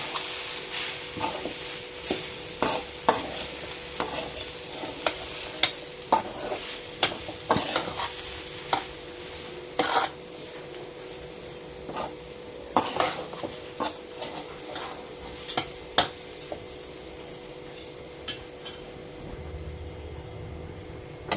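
Ingredients for village-style kolukattai sautéing over low heat in a pan, a soft sizzle under frequent scraping and clinking of a spoon against the metal, close and fairly quiet.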